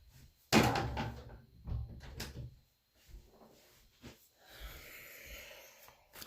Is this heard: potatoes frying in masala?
no